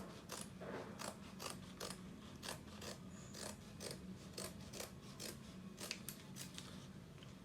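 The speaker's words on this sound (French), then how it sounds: "on va la découper pour avoir 4 rubans. Donc on la coupe une première fois en 2 parties égales" Scissors snip through a paper ribbon for an Advent wreath in a run of crisp, evenly spaced cuts, close and fairly quiet, with no talking.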